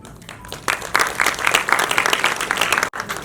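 Audience at a charitable foundation event clapping, starting faint and swelling into steady applause with a brief dropout near the end.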